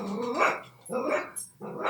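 Dogs bark close by in three quick, gruff bursts with a growling edge, alone without talk.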